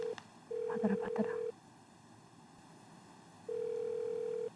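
A telephone ringback tone sounds on an unanswered call, with two long steady tones separated by a pause, fairly loud over a faint background hiss.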